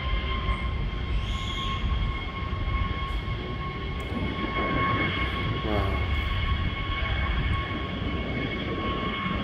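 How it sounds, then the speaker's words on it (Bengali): A China Southern Airlines jet taking off from Dhaka airport, its engines giving a sustained roar with steady whining tones, heard from a distance alongside background noise. "এখন চালু হচ্ছে, টেক অফ করতেছে চায়না সাউদার্ন এয়ারলাইন্স"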